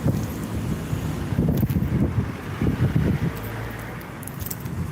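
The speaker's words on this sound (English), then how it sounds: "Even though it's really windy?" Wind blows straight into the microphone outdoors in Japan, a low, rumbling buffet that surges in uneven gusts, with faint rattling and distant background noise.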